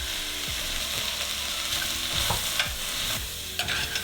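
Minced ginger, garlic and spices sizzling in a hot pan as they are stirred, a dense steady crackle with scraping utensil strokes and a few sharp clicks.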